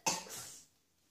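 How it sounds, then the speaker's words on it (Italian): A single short cough at close range, a sharp burst that fades quickly into quiet, heard indoors during a play session with kinetic sand. "ma ho un po' di tosse"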